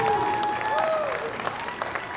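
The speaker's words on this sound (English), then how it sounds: "Ladies and gentlemen, let's have a round of applause for Gustavo Anthony Gomez Rosales." Crowd applause at a college wrestling meet honoring a senior wrestler, steady clapping and cheering in a gym, with a whistle or squeal heard briefly near the start.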